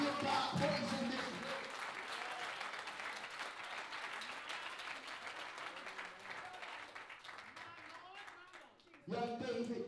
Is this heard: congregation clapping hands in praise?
yes